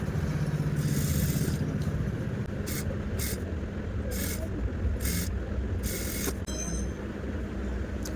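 A sewing machine stitches hijab fabric with a steady mechanical whir and rapid needle clatter, close and continuous throughout, with short bright bursts of louder running in the middle.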